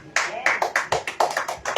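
A church congregation claps in a quick, uneven series of about a dozen sharp, close hand claps across under two seconds, each one loud and distinct.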